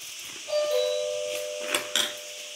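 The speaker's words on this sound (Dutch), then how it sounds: "De bel." A doorbell chimes indoors, a clear ringing tone with a couple of short metallic strikes following, fairly quiet in a calm room.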